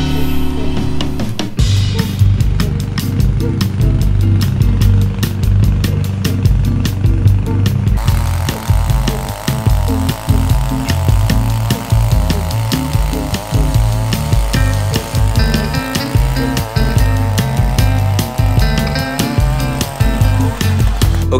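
A lawn mower steadily cutting Pro Vista St. Augustine grass at 3.5 inches in a backyard, a loud continuous engine drone close by, starting up and running throughout.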